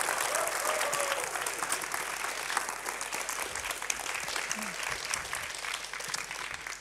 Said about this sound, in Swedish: Kan inte du få dem applådera så där? Fantastiskt, jublande.